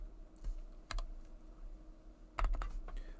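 Keys tapped on a computer keyboard, a few sparse clicks followed by a short quick burst of typing, close and fairly quiet against a low background hum.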